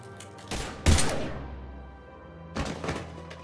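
Gunfire in the video game Mass Effect 3, two heavy clusters of booming shots separated by a short pause, thudding and loud with echoing tails.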